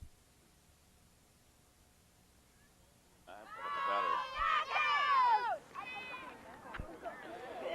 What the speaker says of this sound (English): the gallery behind us really cheering those knockouts on